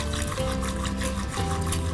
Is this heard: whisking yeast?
yes